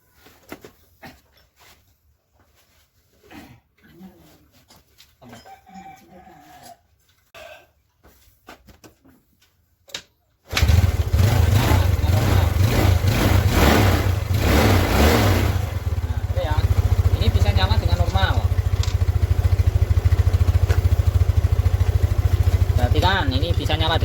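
A Yamaha Mio scooter with a weak battery, heard first as quiet fiddling and someone talking, then the engine catching after the kick start and running loudly and steadily close by, with a few revs.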